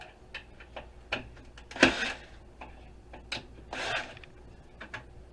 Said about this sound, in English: So right now we're just pulling screws out the other side of the drive.